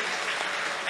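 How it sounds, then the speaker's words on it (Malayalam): Church congregation clapping their hands together in thanks, a brief dense wash of many hands at steady volume, no voices heard. "ഒന്ന് കൈയടിച്ച് കർത്താവിന് നന്ദി പറഞ്ഞേ"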